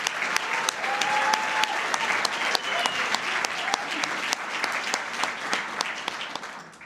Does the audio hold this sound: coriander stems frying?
no